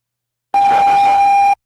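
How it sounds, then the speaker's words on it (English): A loud, steady electronic alarm tone from a 911 emergency call recording tied to the Columbine shooting sounds alone, holding one piercing pitch for about a second before cutting off abruptly. "And this is the 911 alarm."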